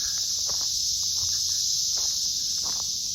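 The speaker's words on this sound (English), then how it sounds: "So hopefully you can hear me over the cicadas." Cicadas drone in a loud, continuous high-pitched buzz at an outdoor site where building footings are being started, with a few faint footsteps and rustles beneath the steady chorus.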